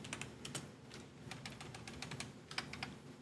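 Rapid computer keyboard typing, a steady run of sharp clicks with brief bursts of faster keystrokes, fairly close and alone without any voices.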